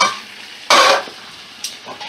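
Snake gourd being fried and stirred in a pan, with sharp bursts of scraping and clattering against the metal over a faint background hiss.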